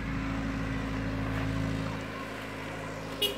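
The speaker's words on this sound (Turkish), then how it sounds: "Traktör tekrar geliyor." A tractor rumbles past at a moderate distance, a low steady engine drone that fades toward the end.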